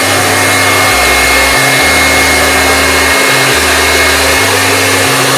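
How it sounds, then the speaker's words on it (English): A blow dryer on the cool setting dries and sets slicked-back hair, a loud steady motor whine with a low hum that shifts in pitch several times as the airflow is moved around the head, no talking. "we're going in with my blow dryer on the cool setting"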